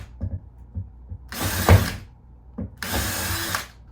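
A recessed-light hole being punched out of a ceiling with a power tool, two loud bursts of drilling about a second long each, separated by quieter mechanical clicks and taps.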